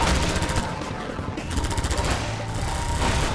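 A weapon fires continuously in Half-Life 2, a steady loud automatic rattle that fills the whole clip without a break. No one talks.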